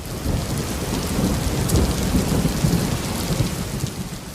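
Steady heavy rain pours down with a low rumble of thunder rolling underneath, a dense continuous wash of sound with no voices.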